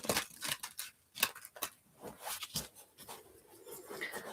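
Tarot cards being shuffled by hand: a faint run of soft, quick papery riffles and clicks, close and quiet, with no talking.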